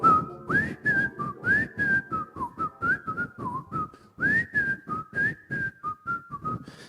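Someone whistles a melody in a series of clear, evenly phrased notes with short breaths between them, close and alone, in a radio-style performance.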